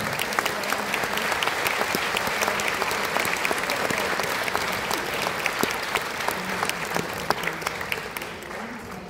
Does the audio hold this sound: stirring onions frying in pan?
no